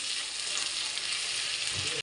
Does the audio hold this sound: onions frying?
yes